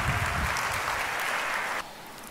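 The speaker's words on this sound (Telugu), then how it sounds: "ఒకసారి చప్పట్లు కొట్టి దేవుని వందనాలు చెల్లిద్దాం." A church congregation claps together in worship, a dense, loud burst of applause that cuts off sharply near the end.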